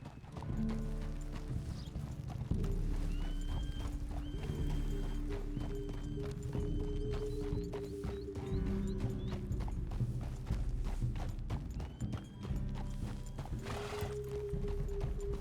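Horse hooves clip-clop in a steady rhythm during a ride in Red Dead Redemption 2, close and clear over a low background, with occasional whinnies and tack jingles.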